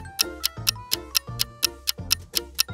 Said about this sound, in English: Do you hear that ticking sound?